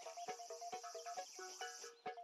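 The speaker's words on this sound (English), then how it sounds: "There we go. Brown cicada." Brown cicada in Animal Crossing New Leaf, a faint, tonal insect chirp repeating in quick regular pulses over a soft high buzz, heard alone.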